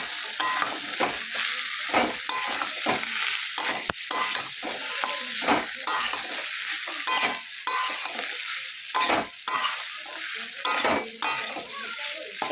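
Cut figs fry in a pan with a constant crackling sizzle while a utensil stirs and scrapes at an irregular pace throughout, close and steady with no talking.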